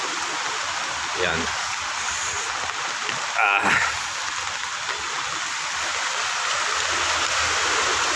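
Risen floodwater after prolonged rain rushes past in a loud, close, continuous broadband roar, with a brief spoken word from a person partway through.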